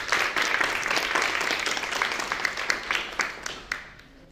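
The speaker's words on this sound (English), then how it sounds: "hopefully you can hear some of the claps in the background" Audience applause and clapping at a live academic event welcoming a guest speaker, a steady wash of many hands fairly near, thinning and fading out toward the end.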